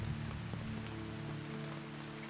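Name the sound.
rain in the video game Eastward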